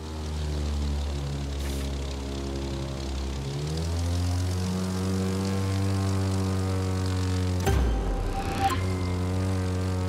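A propeller airplane in The Crew 2 drones loudly through a loop, its engine pitch rising and holding steady, with a brief rushing burst near the end.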